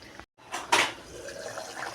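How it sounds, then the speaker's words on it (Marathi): Water is poured briefly into a cooking pot of elephant foot yam (suran) vegetable, a short close splash and trickle lasting under a second. "थोडंसं इथे पाणी ॲड करते"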